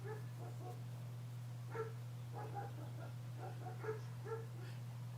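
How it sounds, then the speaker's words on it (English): A dog barks and yips in short bursts, several separate barks spread over a few seconds, fairly faint and set against a constant low electrical hum, with no talking. "Barking up a storm."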